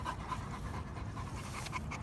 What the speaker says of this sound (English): She's a puppy, so she don't know what.